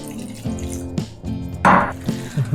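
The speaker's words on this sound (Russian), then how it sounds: "Я хочу чуть-чуть добавить воды." Water poured into thick homemade kimchi chili paste, irregular splashing and dripping trickles close by, short bursts with a louder pour near the middle.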